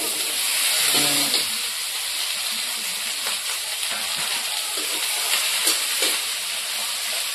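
Wax gourd curry with dried fish and five-spice seeds frying in a pan over a village cooking fire, giving a steady broadband sizzle and hiss throughout with a few faint clinks.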